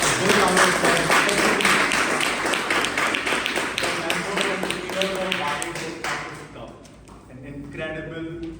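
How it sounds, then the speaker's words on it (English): Audience at a Toastmasters club milestone meeting gives a round of applause, dense clapping that thins into scattered claps near the end, with voices talking over it. "Please give all of us here a big round of applause."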